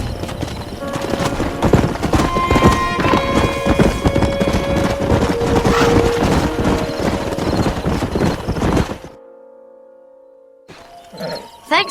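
Horses gallop in Red Dead Redemption, dense loud hoofbeats pounding together with whinnies and rough game effects for several seconds, then the clatter drops away to a quiet tonal hum before a brief burst of sound returns.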